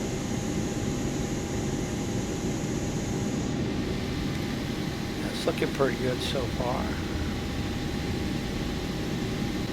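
Steady broadband roar of an Aeromexico airliner's engines and cabin air on the ground at Cancun before takeoff for Dallas Fort Worth, loud and continuous, with someone talking briefly over it partway through.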